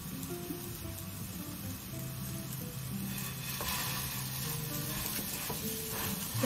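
A hamburger patty searing in a hot pan over high heat, a steady close sizzle and hiss that swells slightly partway through and holds, with no talk.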